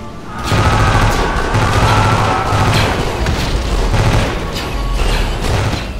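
Rapid battle gunfire in a Power Rangers audio drama clash, sustained volleys and bursts layered over a dense, continuous roar of combat, loud and close throughout.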